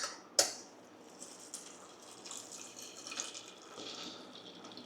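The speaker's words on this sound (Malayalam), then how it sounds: "അത് മുങ്ങിക്കിടക്കുന്ന അത്രയും വെള്ളം എടുത്തിട്ടുണ്ട്" Water is added to a pot for boiling in a home kitchen: a faint, soft trickling and splashing with a sharp click at the start, quiet and close throughout.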